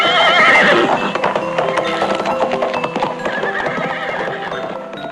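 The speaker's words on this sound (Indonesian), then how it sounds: "Lantaran terkejut, beberapa di antaranya bahkan meringkik keras." Startled horses neigh and whinny loudly and close, layered with rough snorts and hoof clatter in a dense, continuous burst with no pauses.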